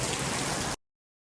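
Steady, dense patter of monsoon rain on a surface at Parshuram Ghat for under a second, then sudden silence.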